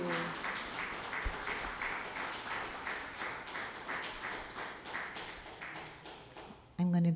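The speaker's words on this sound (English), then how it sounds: "Oh, Lisa, big round of applause." A concert audience at the Oxford Community Arts Center claps steadily after a song, a moderate rhythmic applause that carries on for several seconds before a voice cuts in at the end.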